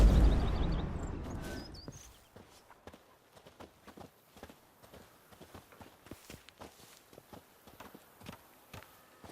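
Rhythmic hoofbeats of a galloping horse in The Witcher 3: Blood and Wine thud steadily and evenly after a loud opening rush of noise fades away.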